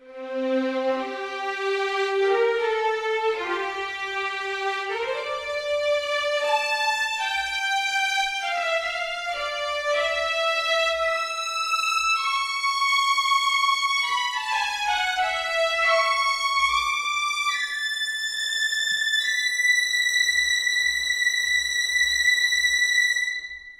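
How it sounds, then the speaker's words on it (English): Legato strings from a Cinesamples sample library ring out in a reverberant hall, a long chain of smooth overlapping notes stepping up and down at even, moderately loud level with a faint low thump beneath. "you can really hear the rosin and the air in the hall passing through"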